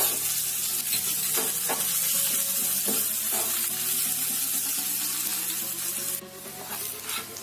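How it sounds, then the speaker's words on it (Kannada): Curry leaves tempering in hot oil for avarekaalu huli, a steady close sizzle and crackle with intermittent stirring scrapes, no talk over it. "ನೋಡಿ ಒಗ್ಗರಣೆ ಈ ಥರ ಚೆನ್ನಾಗಿ ಫ್ರೈ ಆಗಬೇಕು"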